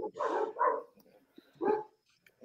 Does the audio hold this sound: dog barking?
yes